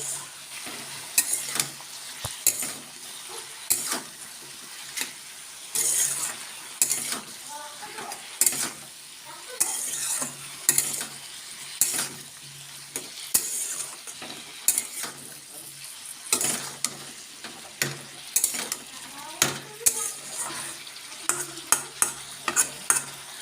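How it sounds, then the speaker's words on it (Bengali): Potatoes and onion stalks with salt, frying in oil in a wok and stirred with a spatula: a steady sizzle broken by frequent scraping strokes and clinks, close up, with no talk. "এটা দিয়ে ভালোভাবে নাড়াচাড়া করে নিচ্ছি"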